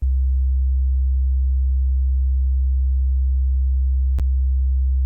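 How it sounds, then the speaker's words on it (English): A pure sine tone, a single steady fundamental, is played through the Pro-Q 3 equalizer. It holds constant and alone for about five seconds, with one brief click partway through. "in Pro Q3, a sine wave is only one fundamental frequency"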